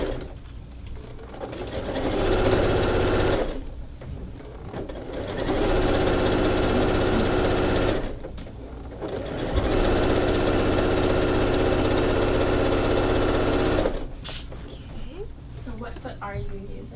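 A sewing machine runs in three long, steady whirring bursts while stitching a baby quilt, each lasting several seconds with brief pauses between, fairly close and even in level, with soft talking during the breaks.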